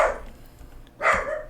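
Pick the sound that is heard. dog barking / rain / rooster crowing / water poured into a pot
dog barking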